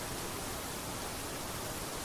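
A waterfall by a mountain lake campsite gives a steady, dense hiss of falling water, uniform and unbroken for the whole short stretch, with no talk.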